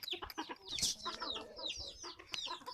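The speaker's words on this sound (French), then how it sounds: "on va essayer d'attraper la poule Pékin" A black Pekin bantam hen clucks in short, fitful bursts at close range in a backyard poultry pen, the brief clucks broken by rustling and movement.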